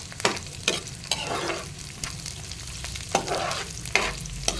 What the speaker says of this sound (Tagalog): Ayan po at nagigisa tayo.